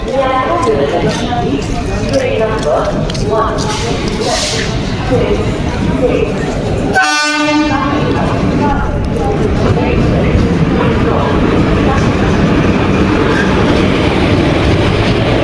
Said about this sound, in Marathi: आता ट्रेन आली आहे